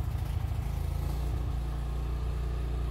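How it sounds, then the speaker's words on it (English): A Cub Cadet snowblower runs at a steady, low engine drone with a slight rhythmic pulse, close by and alone with no talking. "There goes the snowblower."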